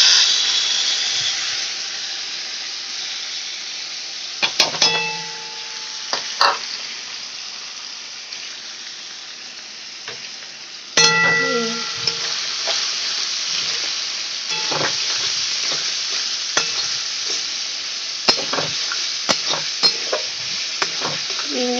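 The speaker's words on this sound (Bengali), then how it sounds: "সবজিটা একটু ভাজা ভাজা করে নিচ্ছি।" Boiled and drained vegetables sizzle steadily in a hot pan with ginger while being stir-fried for chow mein, with a continuous hiss broken by occasional sharp scrapes and clinks of a spatula.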